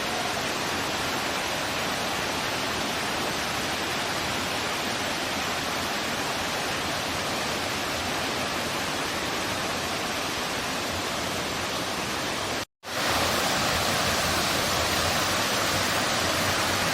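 Water pours continuously over a sculpted waterfall at Rajathani Asoke in Ubon Ratchathani, a loud, steady rushing roar with a brief dropout near the end before the flow resumes.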